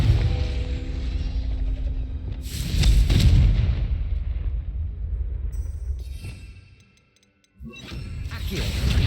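The Confringo spell in Hogwarts Legacy erupts as a heavy explosive blast with a rumbling, mechanical tail, followed by a shorter crackle, a moment of near silence and another burst.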